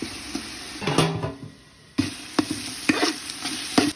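Green chicken pulao masala frying and stirred in a pan, with a soft sizzle under sharp spoon scrapes and clinks against the pan at irregular intervals, close and fairly loud, no talking.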